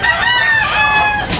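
A rooster crows once, loud and close, in a long drawn-out call at the Tabunok, Talisay chicken market, with no talk over it.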